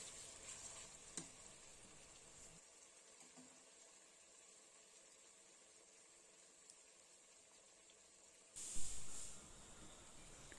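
Ginger garlic paste frying in a pan gives a faint, steady hiss with a few brief clatters and a louder burst of sizzle near the end.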